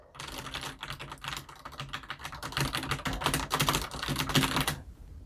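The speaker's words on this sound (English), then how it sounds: "Even when you type on this, everything kind of has like a cheap, rattly plastic sound to it." Typing on a Roccat Vulcan Pro keyboard with red linear switches: a fast, dense run of clacky, rattly plastic keystrokes, close and fairly loud, with no one talking.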